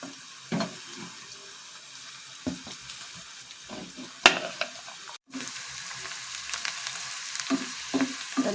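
Onions frying in oil in a home kitchen, a steady low sizzle running throughout with occasional louder clatters and stirring knocks, no voices.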